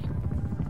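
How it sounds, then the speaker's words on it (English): An attack helicopter in a video game makes a steady low rotor thrum, loud and continuous for under a second. "Hostile attack helicopter inbound."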